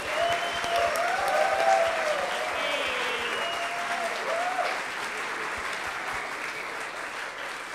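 An audience at a programming contest closing ceremony applauds a team, sustained moderate clapping from a crowd with tonal background sounds over it.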